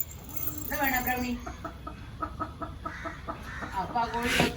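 Chickens cluck in a few short bursts over steady outdoor background noise, with a louder squawk near the end and people talking faintly in between.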